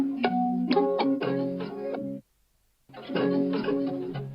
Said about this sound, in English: It's this Thorns 1 texture, and it's just a really nice kind of guitar sound.